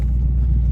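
A car fitted with Maximum Motorsports full-length subframe connectors drives along, giving a loud, steady low engine and road rumble from inside the cabin for just under a second.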